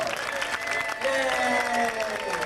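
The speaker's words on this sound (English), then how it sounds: "let's give a nice big round of applause all the way from the Philippines, our resident ice carver, Ramil" Audience applause for a resident ice carver aboard a 1994 Seminole cruise, steady clapping from a crowd with some voices and cheering mixed in, fairly close and continuous.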